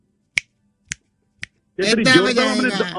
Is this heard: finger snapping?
yes